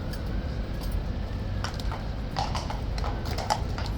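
A horse at Horse Guards in London walks on hard ground, its hooves clip-clopping in an irregular series of sharp, moderately distant knocks over a steady outdoor background hum, with no talking.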